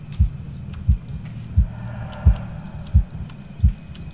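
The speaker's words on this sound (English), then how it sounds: "Go away, heartbeat." Heartbeat sound effect from the Medusa's Labyrinth horror game: steady, deep, thumping beats about every 0.7 seconds, loud and close over a low droning hum with faint ambient textures.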